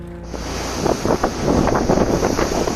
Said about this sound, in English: A waterfront in southern France is battered by waves and high winds